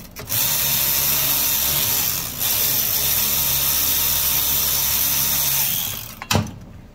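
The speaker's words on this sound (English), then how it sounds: "all you're gonna do is you're gonna take off these four half inch nuts all the way around here" Power tool spinning off half-inch nuts on a Snapper RE110 mower: a steady close whirring drive runs for several seconds with a brief dip partway through, then stops with a sharp clank near the end.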